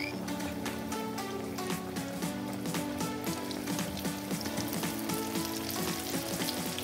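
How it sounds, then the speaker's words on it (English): Fish coated in flour and salt deep frying, a steady dense crackle and bubbling of hot oil with scattered pops, heard close, moderately quiet, and without speech. "This is just flour and salt. I deep fry."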